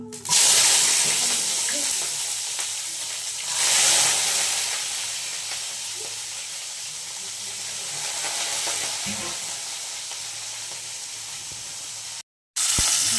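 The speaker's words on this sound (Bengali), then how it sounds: "সাদা জিরে ফোড়ন দেবো, আর এটা দিয়ে দেবো শুকনো লঙ্কা" Whole cumin seeds and dried red chilli sputter in hot oil in a kadai for a ghugni recipe, giving a loud, continuous close sizzle that swells and eases before a brief cut near the end.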